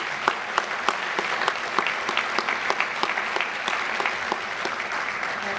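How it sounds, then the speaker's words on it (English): Audience at the Woodbridge Metro Chamber of Commerce Chairman Awards applauding its sponsors, sustained steady clapping from a sizable room with individual sharp claps popping through. "Let's give them a round of applause."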